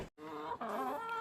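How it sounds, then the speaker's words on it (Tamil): A hen among five or six chickens at a home gives a short, clear, close cluck with rising and falling tones, lasting just over a second, with no talk. "இதில் வேறுங்க ஒரு 5-6 கோழி நிற்கிது"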